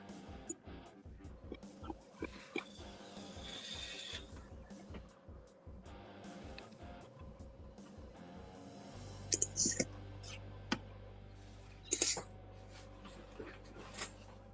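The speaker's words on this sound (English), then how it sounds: "I'm typing on my computer while I use my phone to talk to you guys" Computer keyboard typing comes through as sparse, light clicks scattered under ongoing conversation and soft background noise, with a few sharper taps standing out now and then.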